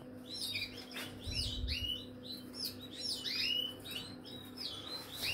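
Small birds chirp repeatedly in quick high tweets, moderately close, over a steady low hum and faint background noise, with no voices.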